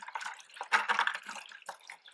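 Well water pouring in an uneven, splashing stream into a marked 5-gallon bucket, close and moderately loud, with gurgling bursts and drips and no voices.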